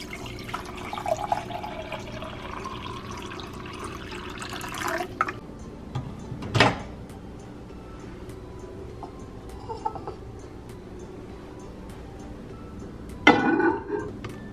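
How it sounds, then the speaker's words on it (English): Liquid drips and trickles into a glass vessel while coffee is prepared, with soft intermittent pours and a couple of sharper clinks and splashes standing out over a quiet room. "I might make me some coffee."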